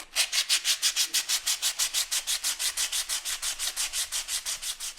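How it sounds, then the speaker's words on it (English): Dried wood filler is sanded with 120 grit sandpaper along the grain in rapid, even back-and-forth strokes, roughly five per second, a close, crisp rasping with no other sounds. "We use 120 grit sandpaper and again sand in the direction of the grain."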